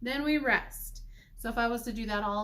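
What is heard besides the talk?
No distinct noise like a dog, phone or traffic.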